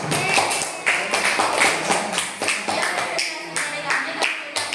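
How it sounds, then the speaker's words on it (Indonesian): Clapping for a student group in a classroom during a social studies lesson, a lively burst of many hands with uneven sharp claps, fairly close, with voices mixed in. "untuk kelompok 2 tepuk tangan"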